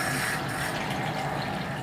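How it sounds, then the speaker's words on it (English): Two cups of water poured into a bowl for crepe batter, a steady, close rushing splash that holds even and unbroken throughout with no talk. "You start out of 2 cups of water first."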